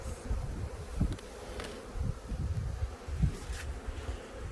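Honeybees buzzing around farm hives during a nuc transfer: a dense, continuous low drone of many bees close to the microphone, with individual bees swelling louder as they pass.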